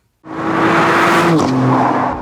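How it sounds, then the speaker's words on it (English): A single sustained horn blast from a 2016 Volkswagen Caddy Alltrack 4Motion, loud and close, holding steady for about two seconds with no talk over it. "we do have a horn, and I will honk it for you. That's what it sounds like."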